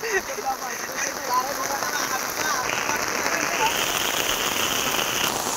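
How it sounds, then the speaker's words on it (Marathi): Heavy rain falls on muddy ground in the Konkan countryside during a cricket match, making a dense, steady, close patter with faint voices underneath. "पाऊस पडतोय"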